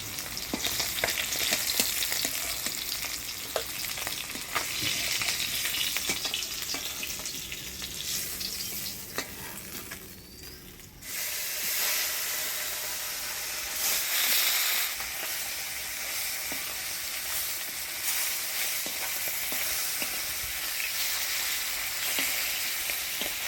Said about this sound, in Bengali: এবার ফোড়নে দিয়ে দিচ্ছি শুকনো লঙ্কা গোটা জিরা